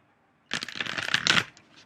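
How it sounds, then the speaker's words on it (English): Tarot cards riffled and shuffled by hand in a quiet room, a dense papery flutter that starts abruptly and runs for about a second, close and fairly loud, then stops. "I'm just going to do a little bit of an extra shuffle here"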